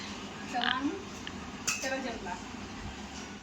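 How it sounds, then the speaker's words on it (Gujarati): Metal pots and dishes washed outdoors in the rain at a village home: scattered clinks and clanks of utensils over a constant wash of rainfall, with faint voices nearby. "ચાલુ વરસાદમાં આંટી વાસણ ધોવા બેઠા છે"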